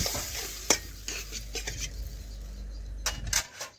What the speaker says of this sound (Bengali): এখন আমি পরিমাণ মতো জল দিয়ে দিচ্ছি।